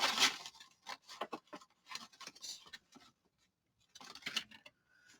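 Paper being folded and creased by hand while making a paper bag journal: close, crisp rustles and sliding rubs in several short bursts with quiet gaps between them.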